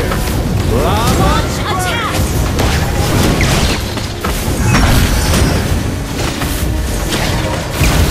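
Booming lava eruption of the Song of Fire ultimate in Mobile Legends: Bang Bang, a loud, dense rumble with crashing bursts that fills the whole stretch, mixed with game effects and voices.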